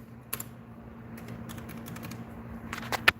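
Fingers typing on a computer keyboard, a scatter of light, uneven key clicks bunching into quick runs over a low steady electrical hum, fairly faint and close.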